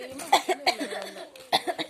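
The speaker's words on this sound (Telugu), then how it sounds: "ఏమైందమ్మా దగ్గుతున్నావు?" A few short, sharp coughs in quick succession, close by, with a brief pause before another pair of coughs.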